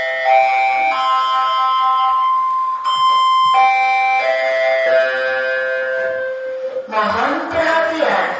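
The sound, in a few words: school bell signalling change of lesson period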